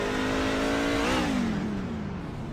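A race car engine at North Wilkesboro Speedway, heard from the in-car camera, holds a steady high drone, then the pitch rises and falls as the driver shifts and the revs drop away.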